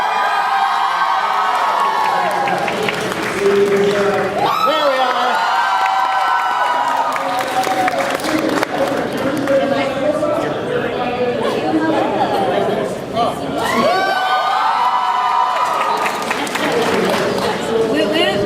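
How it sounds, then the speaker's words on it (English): At a Voltron panel at Fan Expo Vancouver, a convention crowd claps, cheers and whoops in loud swelling waves that dip briefly and rise again, while a host speaks over the noise. "Let's give them a big round of applause, everybody."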